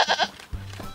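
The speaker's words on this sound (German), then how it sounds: "Dieser Ziegenbock von Friedrich Dörrmann aus Petershagen ist bei einem Promi eingezogen" A single billy goat from Petershagen gives a clear, loud bleat with harmonic, quavering tone, followed by a lower, shorter rumbling grunt.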